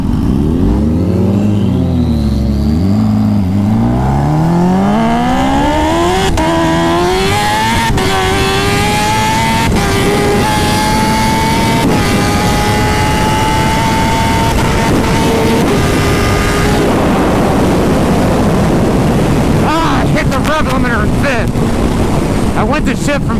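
A turbocharged Kawasaki ZX14R at a half-mile race pulls hard through the gears, its engine pitch climbing and dropping with each shift under heavy wind buffeting, loud and close throughout.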